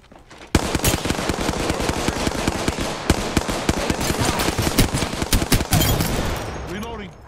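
Rapid automatic gunfire from an Apex Legends firefight, dense bursts crackling almost without pause for several seconds, loud and close, with faint in-game voice callouts underneath.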